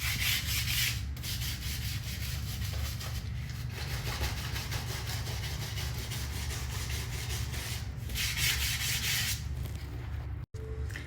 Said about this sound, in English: I'm just gonna go around and scrub all of the cracks